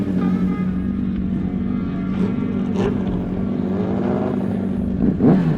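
A motorcycle with a Moriwaki slip-on exhaust rides at night, its engine droning close and steady. It rises into sharper revving toward the end.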